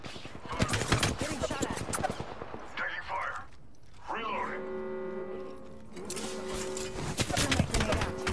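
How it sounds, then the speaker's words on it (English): Gunfire in the battle royale game Apex Legends, rapid bursts of shots crackling through the opening seconds and again near the end, mixed with game sounds and tones in between. "Getting shot at. Taking fire."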